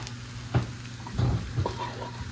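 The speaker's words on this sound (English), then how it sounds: "So we're going to dump in the pancetta now." Pancetta sizzles and pops quietly in a pan over low heat, with soft scattered crackles and a few brief louder spits across a low steady background.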